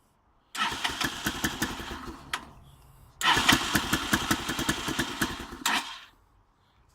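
Kinroad XT125GY motorcycle with a rusty, repaired exhaust firing up twice: each start bursts into rapid, uneven putters and revs, dies away, then catches again for a few seconds before cutting out, close and loud.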